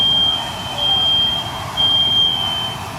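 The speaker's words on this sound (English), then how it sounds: "And the alarm is going off." A household smoke alarm, set off by the steam from pasta boiling on the stove, sounds a loud, piercing, continuous high tone that stays steady and close for the whole stretch.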